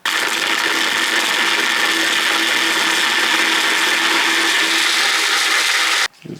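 A power tool grinds steadily to trim the tang of a ladder-pattern Damascus knife: a loud, continuous whine that runs for about six seconds, then stops abruptly and leaves a short clatter.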